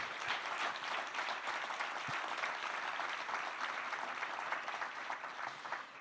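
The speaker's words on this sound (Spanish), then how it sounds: "Dale un aplauso al Señor, es cierto." A church congregation claps steadily for several seconds during a sermon, a dense patter of many hands that holds its level throughout.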